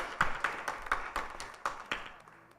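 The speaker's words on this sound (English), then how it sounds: "Please welcome her with a round of applause." Sparse clapping from a small audience at a Sunday morning gathering at a Krishna temple, a handful of distinct claps spread over a couple of seconds, fairly close and fading out.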